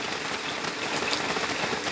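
Heavy rain falls steadily in a rural highland area during rice harvest season, a dense, even hiss of downpour on surfaces with no voices, close and continuous.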